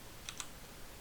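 Two quick, faint clicks of computer keyboard direction keys being pressed while playing Snake Duel on a Netrunner 16.01 GNU/Linux desktop, each a sharp separate tap over a quiet background.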